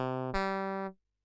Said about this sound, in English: So a saxophone sounds like this.